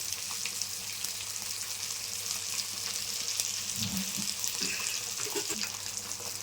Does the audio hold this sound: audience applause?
no